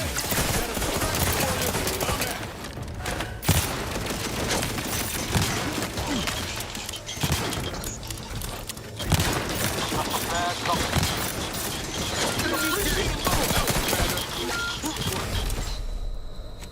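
Turrets firing in The Outer Worlds 2, dense bursts of rapid gunfire with sharp impacts and mechanical clatter, loud and near, pausing briefly between volleys.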